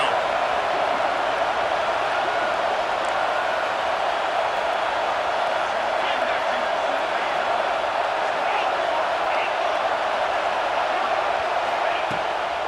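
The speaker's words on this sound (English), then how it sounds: "Decibels rising as the crowd gets behind this defense on third down." Steady roar of a video game football stadium crowd cheering behind the defense on third down, a dense continuous wash of noise lasting throughout with no breaks, loud and even in level.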